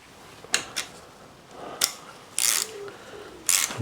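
Small metal clicks and ratcheting as a bolt is tightened on the headset of a Quintana Roo triathlon bike, several short sharp bursts spaced across a quiet workshop background, no talking.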